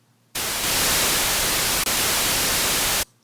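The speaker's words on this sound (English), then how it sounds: "that's an audio wave file of some white noise" A short white-noise sample loops in the noise oscillator of the Serum synthesizer: steady, bright, hissing static that starts abruptly, runs for under three seconds with a tiny glitch midway, then cuts off.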